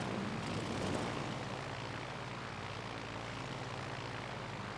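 Propeller aircraft engines droning steadily in a World of Warships Legends naval battle, a continuous loud hum that holds at an even level throughout with no talk.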